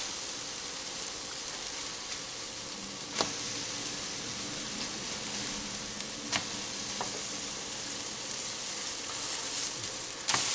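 Orange French toast sizzles steadily on a hot non-stick griddle, a continuous close frying hiss broken by a few sharp clicks and taps, with no talking.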